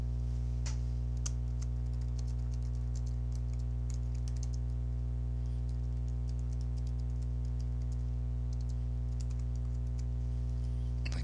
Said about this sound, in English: you type the text that you want into the bounding box